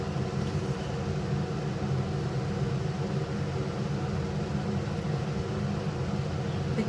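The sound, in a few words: fish curry with potatoes boiling in a pot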